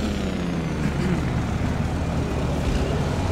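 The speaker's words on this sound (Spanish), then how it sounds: "Es que aquí los carros pasan a toda madre" Steady, loud traffic roar of trucks and cars rushing by fast in American Truck Simulator, a continuous engine and road noise with no breaks.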